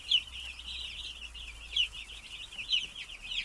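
Broiler chicks peep steadily in their new pen bedded with sawdust, a thin, continuous high-pitched chorus with a few louder chirps standing out, close by and with no voices.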